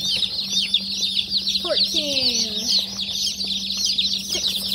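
Newly unboxed meat bird chicks cheep in a steady high chorus close by, with a few louder individual peeps standing out while a person counts aloud over them.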